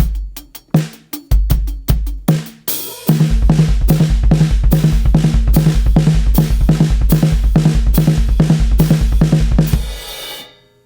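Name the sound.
drum groove with 32nd-note hand-foot exercise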